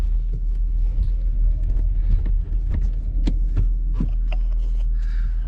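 A car driving along the road, heading north toward the interstate, gives a steady low rumble from inside the cabin, with scattered small clicks and knocks over it and no talking.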